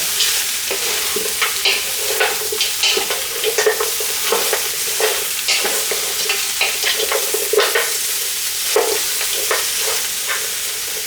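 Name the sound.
onions being stir fried in a wok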